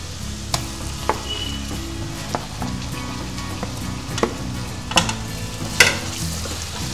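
Homemade masala spices and turmeric fry in oil over a low gas flame for a clam curry, a soft continuous sizzle broken by several sharp scraping stirs and clinks of the spoon against the pan, with no talking.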